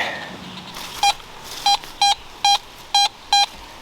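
A metal detector sounds over buried metal while hunting for coins outdoors, six sharp identical beeps in an uneven rhythm, loud and close over a faint background hiss.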